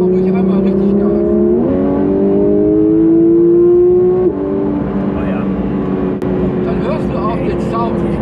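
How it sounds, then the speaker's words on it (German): Porsche GT3 RS engine revs hard under full throttle, a loud close howl climbing in pitch before easing to a steady drone, with people talking over it. "gib mal ruhig einmal richtig Gas"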